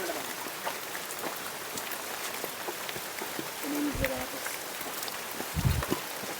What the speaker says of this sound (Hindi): बारिश भी हो रही दोस्तों अभी जोर जोर से